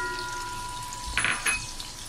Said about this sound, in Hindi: ये हम ऐड करके इसको अच्छी तरह से मिक्स कर लेते हैं